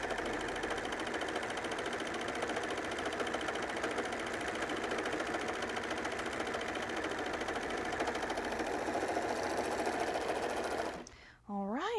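Sewing machine attaching an elastic waistband to knit fabric, a fast steady mechanical whirr running loud and unbroken, then stopping abruptly near the end.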